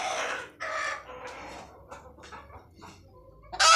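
Egyptian Fayoumi hens cluck close by in a series of short, uneven bursts, louder at first and then softer and scattered, ending with a sharp, loud squawk.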